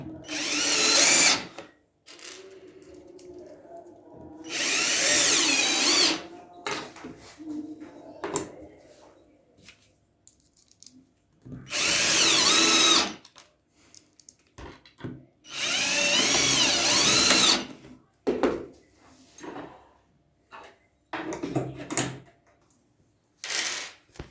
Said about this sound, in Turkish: İki tane vida ile sıkıyoruz buraya.